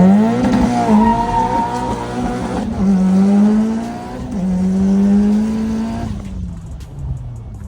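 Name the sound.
Mitsubishi Evo 8 launching on the dyno, smoking the tires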